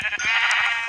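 Sheep in the Minecraft video game bleat in one loud, close, wavering cry lasting nearly a second, with no talk over it.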